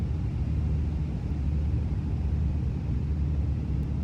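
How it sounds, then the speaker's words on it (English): A twin-engine Carenado PA31 piston airplane in a flight simulator drones with a steady, dense low rumble of propellers and engines, continuous and fairly loud with no pauses or voices. "You can hear that prop start slapping the air too, which is cool."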